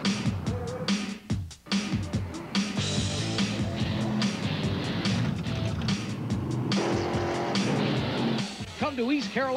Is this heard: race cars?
yes